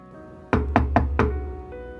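Four firm knocks on a bedroom door in quick, slightly uneven succession, close and clear over a quiet indoor room tone.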